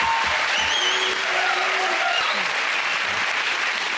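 A studio audience of a TV comedy panel show applauds loudly and steadily throughout, with a few whistles cutting through the dense clapping.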